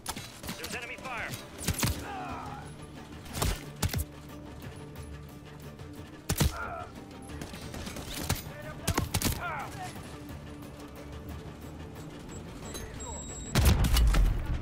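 Enemy gunfire in the Modern Warfare 3 campaign: scattered sharp shots and short bursts crack out at irregular intervals over a low rumbling game background, ending in a heavier loud burst.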